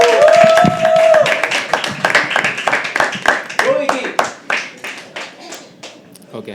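Audience at a live poetry open mic clapping to welcome the next performer, a first-time reader; dense rapid claps taper off toward the end, with a voice speaking briefly over the start and again midway.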